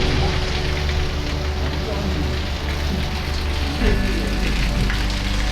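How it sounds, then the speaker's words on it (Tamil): Heavy rain pours during a motorbike ride on the Valparai to Athirapally road near the Tamil Nadu–Kerala border. A loud, dense, continuous roar of rain and wind mixes with a low rumble. "செம மழை."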